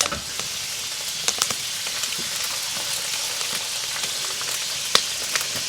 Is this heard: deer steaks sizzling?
yes